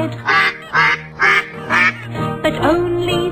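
Four rhythmic quacks of a mother duck in a nursery rhyme, loud and evenly spaced, followed by a short sung or spoken phrase with a bright, cartoonish tone.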